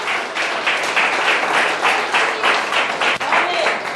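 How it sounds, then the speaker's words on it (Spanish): A church congregation applauds during a sermon, rhythmic clapping that swells in regular pulses and keeps going with voices mixed in beneath it. "no tengan miedo a aplaudirle al rey"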